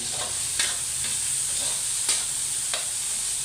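Garlic, onion and tomato sizzle steadily in a hot pan for ginisang repolyo, a close, continuous frying hiss broken by several quick scraping stirs of a utensil.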